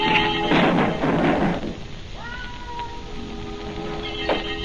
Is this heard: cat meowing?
yes